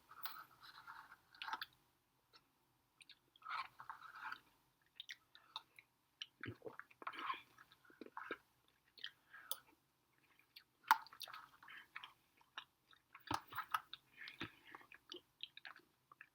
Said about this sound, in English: That was granola and milk.